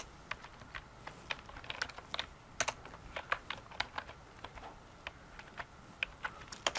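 Keys click on a computer keyboard during coding in quick, irregular bursts of taps, faint but close, with no talking.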